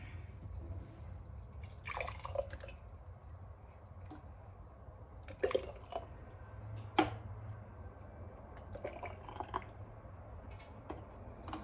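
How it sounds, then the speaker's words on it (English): Processed tomatoes are ladled into quart canning jars, giving soft wet drips and scattered clicks and clinks of the ladle against glass over a faint low background hum, quiet and close, with no talk. "We're gonna ladle into jar, leaving a 1-inch headspace and then remove air bubbles."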